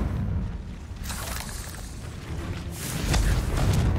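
The Confringo blasting spell explodes in the Hogwarts Legacy video game with a deep, rumbling boom. A second heavy burst swells near the end over continuous low game ambience, with no talk.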